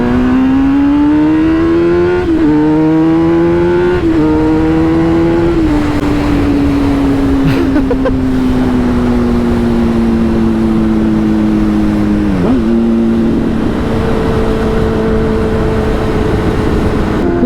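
A Kawasaki ZX10R sport motorcycle revs its exhaust close by, the engine note climbing and dropping in several blips before settling into a long steady drone, loud and unbroken throughout.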